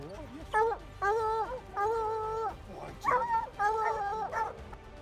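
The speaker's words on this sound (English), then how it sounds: "The dogs barked loudly," Hunting dogs surround a bear in Alaska, barking and yelping in repeated bursts, some drawn out into whining howls, fairly close and loud against a quieter background.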